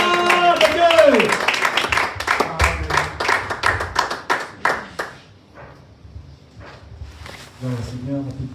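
A church congregation gives applause and acclamations, a burst of voices and clapping up front that settles into a run of distinct, evenly spaced claps, thinning out before voices return near the end.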